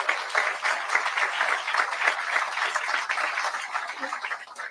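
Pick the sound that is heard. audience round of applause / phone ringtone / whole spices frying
audience round of applause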